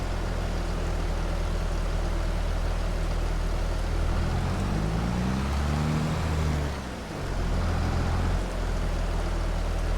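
A new tractor's engine in a farming video game drones steadily and loudly, its low pitch rising then dipping briefly as it works, with no talking.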